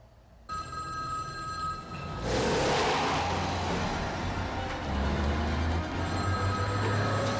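An old-style telephone bell rings repeatedly in a scene from the 1999 film The Matrix, the trills set against a loud rushing, rumbling film soundtrack that swells after the first couple of seconds.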